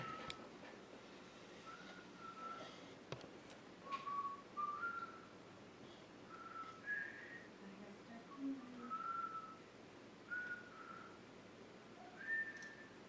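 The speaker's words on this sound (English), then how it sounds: "Who's whistling?" A person whistles a slow, faint melody of short tones in a quiet church during a service, with gaps between the notes and soft room background.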